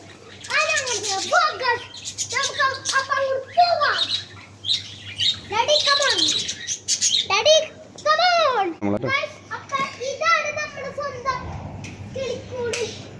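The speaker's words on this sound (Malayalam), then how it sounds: "ലവ് ബേർഡ്സ് തത്തമ്മല്ല വേറെ ഉണ്ട്." Lovebirds and parrots squawk and chirp in a busy run of sharp, repeated calls, loud and close, with children's voices mixed in.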